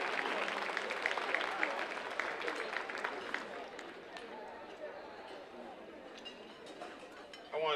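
Audience applause and scattered cheering at a mayor's ball, with people chattering over the clapping, starting fairly full and gradually thinning out as the clapping fades.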